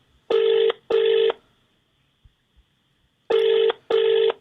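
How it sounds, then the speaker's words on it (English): An outgoing telephone call produces a ringing tone in two pairs of loud, buzzy pulses, each about half a second long, with a long silent gap between the pairs and a faint hum underneath. "I'll phone the house."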